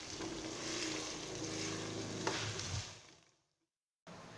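Mutton with ginger garlic paste sizzles and fries in a pan for achari gosht, a steady close crackling hiss that fades out and briefly returns at the end.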